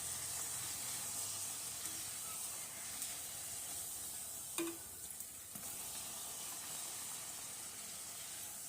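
Puris deep-frying in hot oil for a potato rassa bhaji meal: a steady, even sizzle and hiss runs throughout at moderate level, with a couple of faint clicks partway through.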